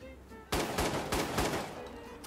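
Gunshots in the Watch Dogs 2 online video game, a rapid burst of about six close, loud shots in quick succession.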